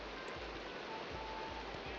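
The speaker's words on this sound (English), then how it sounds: "It's raining." Rain falling in a modded video game world, a steady, even hiss of drops that runs unbroken throughout at a fairly low level, with no clear voices over it.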